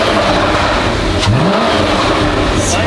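Rebuilt engine of a wrecked Porsche running loud and close, a steady thick rumble with a brief rise in pitch as it revs, with no talking.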